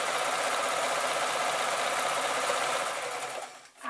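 A sewing machine runs in one steady, close, continuous stitching burst along a tote bag seam, then winds down and stops at the very end.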